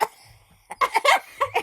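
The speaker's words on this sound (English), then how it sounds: "Oh. I coughed" A single short cough bursts out near the start, then several broadband vocal bursts follow in quick succession, close and fairly loud, sounding like laughter or further coughing.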